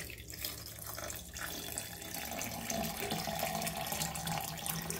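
Water streams steadily from a tap into a vessel of freshly churned homemade butter, a soft, continuous splashing pour that swells slightly toward the end, heard alone.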